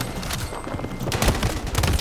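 Video game gunfire from an NVO-228E rifle build, a quick rapid burst of sharp shots over about two seconds, fairly close and moderately loud.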